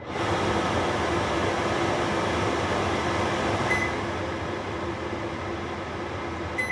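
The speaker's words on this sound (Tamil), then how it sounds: "இந்த வெண்ட் ஃபேன் அப்படின்றது ஒன்றுமே இல்லைங்க, பேசிக்காக அது வந்து சிம்னி தான்." A kitchen chimney vent hood fan runs in a home kitchen in the USA, a steady, loud, even whirring rush that continues unchanged throughout.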